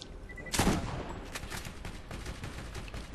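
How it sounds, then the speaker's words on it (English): Turret gunfire in the video game Borderlands, heard as a quick series of rapid, sharp gunshot bursts at moderate volume that keep rattling through the brief clip. "I have the one turret going, shoots in front of me."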